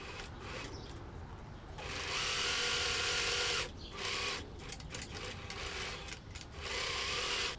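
A sewing machine stitches a buttonhole on a pair of pants, its faint rapid whirring coming in several short bursts separated by brief pauses.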